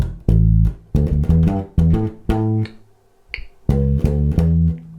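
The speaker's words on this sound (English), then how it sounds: "So that is the first bass line for the A section." A bass guitar plays a syncopated funk line, short punchy plucked notes in a choppy rhythm with brief gaps between phrases, clear and close with no talking.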